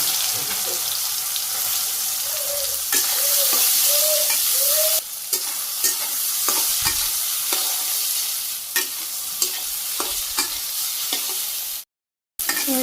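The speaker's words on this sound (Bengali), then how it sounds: "তেল গরম হয়ে গেছে সয়াবিন দিয়ে দিতেছি" Soybean chunks fry in plenty of hot oil, a loud continuous sizzle with repeated scraping strokes of a spatula stirring them, a few sharp knocks, and a sudden brief silence near the end before the sizzling resumes.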